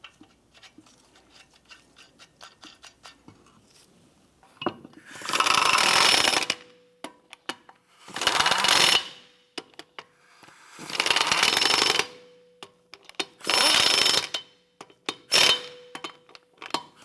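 A power impact tool snugs down the wheel lug nuts on a 2007-2012 Nissan Versa in four loud hammering bursts of about a second each, separated by quiet pauses with light clinks.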